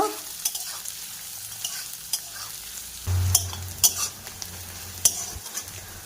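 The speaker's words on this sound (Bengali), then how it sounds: "পেঁয়াজ কুচি দিয়ে কিছুক্ষণ ভেজে নেব।" Chopped onions frying in oil, a soft sizzle that swells after they are tossed, with a few spoon taps and scrapes on the pan.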